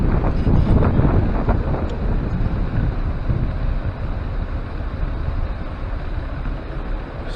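Gusty south wind off a lake buffets the microphone in loud, continuous rumbling blasts that ease slightly toward the end, with no talking.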